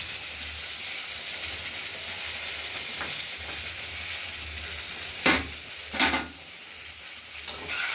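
Tomatoes sizzle and fry with spices in a pan for a bean, potato and lentil-dumpling curry, a steady close hiss with a low hum beneath and a few louder bursts of stirring near the end.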